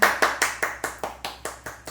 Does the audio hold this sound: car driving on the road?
no